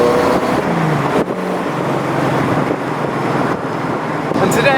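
An AK427 Cobra replica with a standard factory Chevrolet 350 V8 rumbles loudly and close by in a continuous deep engine drone, its pitch shifting slightly as the car moves.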